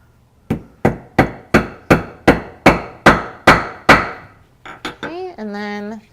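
A hammer sets a rivet on a strap with about ten sharp, evenly spaced blows, loud and close, followed by a brief clatter and a ringing metallic tone.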